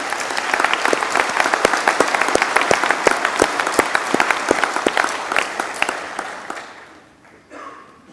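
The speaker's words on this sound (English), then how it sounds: "I think you all deserve a round of applause" An audience at a community meeting claps steadily for several seconds, dense close applause that thins out and fades near the end.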